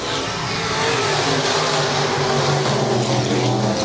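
Sport modified race cars roar together around the oval at Raceway Park, a loud continuous wall of engine noise with layered revving tones as the pack runs under green, no voices heard.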